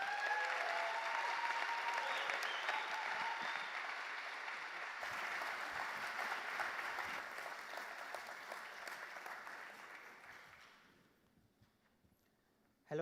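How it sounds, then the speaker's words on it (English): An audience at a student startup showcase gives a big round of applause, loud and sustained for about ten seconds before thinning out and fading to near quiet. "Let's give Girish and Sai a huge round of applause."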